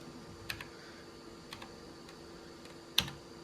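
A Vendex Headstart Turbo 888 XT keyboard under a stuck-key test gives a few sparse, crisp key clicks, single taps spaced about a second apart, the last one sharpest, over a quiet low hum.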